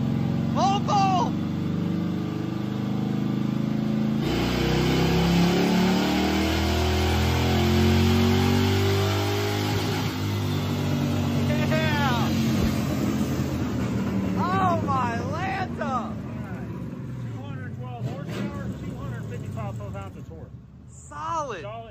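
Ford Crown Victoria engine revving hard in second gear, a loud, steady drone that rises and falls over about twenty seconds, with people talking over it throughout.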